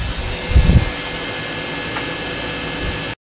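An air conditioner and dehumidifier run together on a VTOMAN Jump 1800 LiFePO4 portable power station, giving a steady, loud fan-like whir with a brief low thump near the start and a sudden cutoff at the end.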